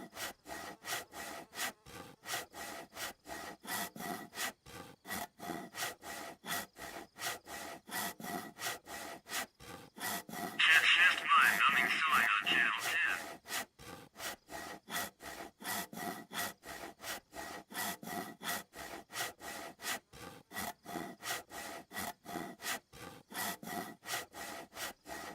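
A hand saw cuts through wood in a quick, steady back-and-forth rhythm of raspy strokes, fairly close. A louder, harsher scraping burst stands out briefly midway before the even sawing resumes. No one speaks.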